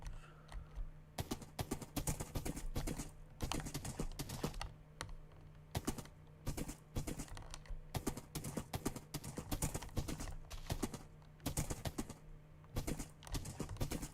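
Horse hooves clip-clopping in Minecraft during a multiplayer survival server session, a steady run of sharp, close clicks repeating throughout over a low constant hum, with no talking.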